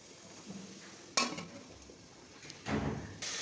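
A lid set onto a cooking pot of lentils in a home kitchen, with a couple of sharp metallic clanks and scrapes standing out over quiet background noise.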